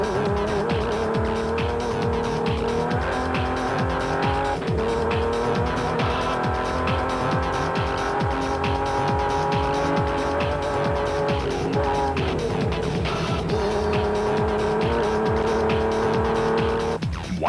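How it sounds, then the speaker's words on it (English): Rally cars in the Amatole 500 2007 racing past a roadside vantage point, engines roaring loud and continuous with revving and gear changes and tyres scrabbling on the surface. "Whitehouse and Langton piloted their region back past our vantage point in 11th place in class"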